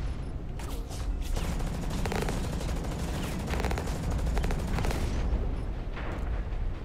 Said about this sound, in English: Somebody's shooting me from this side.